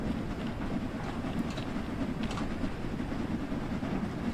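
Steam locomotive from the Train Sim World 3 game pulling a railtour through Kent, a steady continuous rumble of engine and wheels at moderate level with no talk.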